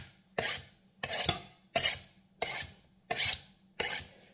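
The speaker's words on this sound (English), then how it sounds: "Now, that's one of the ways I sharpen a knife." Kitchen knife drawn across a sharpening stone while preparing a country curry: six rhythmic rasping strokes, evenly spaced and close, with short silent pauses between them and no talking.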